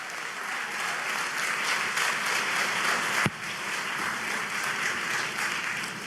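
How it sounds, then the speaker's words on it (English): An audience at a press conference on affordable housing in Atlanta claps in sustained, even applause for several seconds, with one sharp clap or knock standing out partway through. "Let's give our CEO another round of applause."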